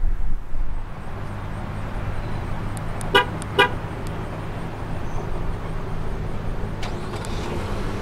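Two short horn chirps from a 2017 Infiniti QX60 answering a key-fob remote start, sounding close together over steady outdoor road and engine rumble, with a few fainter clicks afterward.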